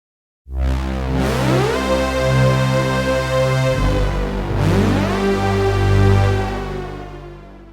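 A film-score super saw synth patch with dark, lush reverb swells in as a thick sustained chord, with a rising sweep near the start and another midway, loud and alone with a long wash of reverb.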